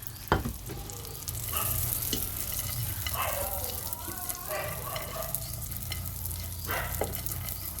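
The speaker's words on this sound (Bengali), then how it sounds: "তো যে ঘিয়ের মধ্যে আগে আমি এই যে বাদাম কিশমিশগুলো ভাইজা নিম" Nuts and raisins fry in ghee in a hot pan with a soft, close sizzle under repeated clinking, scraping stirs of the spoon against the pan, and no one speaks.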